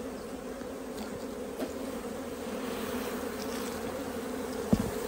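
Honeybees hum steadily during a hive inspection, a dense, constant close-up drone with a brief knock near the end.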